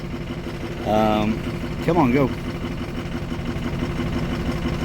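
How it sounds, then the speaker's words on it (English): A 6.0 Ford Power Stroke diesel idles roughly and unevenly as a steady low rumble throughout, with someone speaking briefly over it. "As you can tell, it's running extremely rough."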